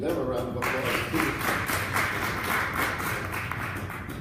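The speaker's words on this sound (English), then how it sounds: "we can give them a round of applause" An audience at a family gathering claps for the hotel staff in a room, a steady mass of hand claps that runs for about four seconds with a faint murmur at the start.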